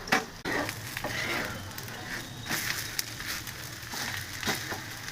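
Cluster beans frying in a pan on a low-flame home stove, a steady soft sizzle with faint crackles and occasional scraping stirs, close and fairly quiet.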